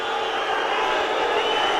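A large fight-night crowd at an MMA bout, a steady loud roar of boos and jeers filling the space, with a commentator's voice over it.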